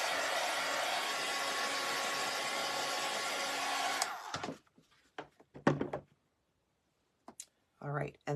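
A hair dryer blows steadily and loudly while drying a mop spindle standing upright in a holder, then cuts off abruptly, followed by scattered clicks, thunks and handling noises in a quiet room.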